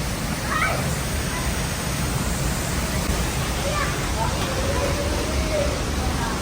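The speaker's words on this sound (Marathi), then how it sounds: "चला आता मोठा धबधबा बघू तिकडं" Broad, constant roar of a waterfall fills the air, with faint voices barely audible beneath the rushing water.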